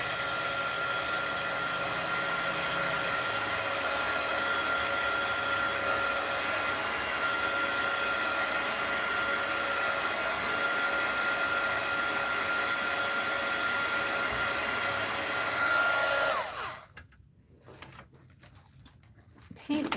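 A hair dryer blows in a steady, loud whoosh for about sixteen seconds while drying a wet watercolor journal page, then cuts off abruptly, leaving quiet with faint handling sounds.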